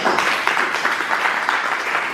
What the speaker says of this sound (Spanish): A él le damos la gran bienvenida con fuertes aplausos.